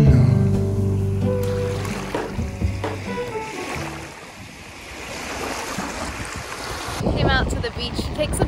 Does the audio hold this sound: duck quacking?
no